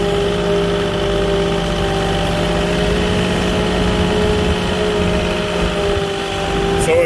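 A forklift engine idles steadily throughout, a continuous near mechanical drone with a constant tone and no revving, running alone without speech.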